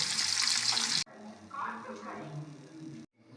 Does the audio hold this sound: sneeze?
no